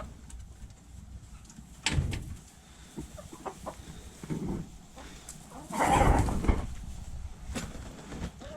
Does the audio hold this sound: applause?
no